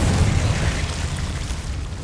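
A Confringo fire spell explodes in the video game Hogwarts Legacy, a deep rumbling blast that fades out over about two seconds with no voices.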